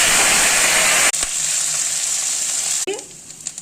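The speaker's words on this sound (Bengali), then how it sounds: "ডাঁটাগুলি ছেড়ে দিলাম।" Drumstick stalks fry loudly in hot oil in a wok, a dense, steady close-up sizzle that cuts off and settles into a quieter hiss with light stirring clatter.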